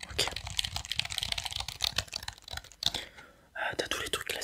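Someone types on a classic full-size computer keyboard with a numeric keypad and arrow keys during a French ASMR shop-seller roleplay. Soft, close, rapid key clatter runs under quiet whispered speech and pauses briefly near the end.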